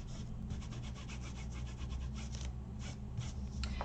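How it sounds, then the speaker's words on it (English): Colour being rubbed onto a heavily embossed foil card, a close, continuous soft scratchy rubbing with quick repeated strokes over a low steady background hum. "don't rub too hard, because this has been very heavily embossed"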